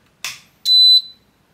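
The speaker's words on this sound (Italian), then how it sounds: "Si è sentito il beep, manca il display" An air conditioner's indoor control board, under repair for an E3 fan and louver fault, beeps on power-up: a short electrical click, then one loud, clean, high tone lasting about a third of a second, followed by silence.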